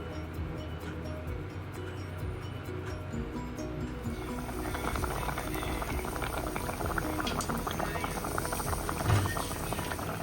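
Mango pulissery boils in a pot, a continuous close bubbling and gurgling that grows busier partway through, with a brief louder pop near the end.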